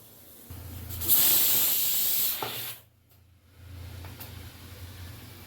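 Steam hisses loudly from a pressure cooker after its fifth whistle while a drumstick soup cooks, a strong burst lasting about two seconds, then breaking off and fading to a softer, lingering hiss over low kitchen hum.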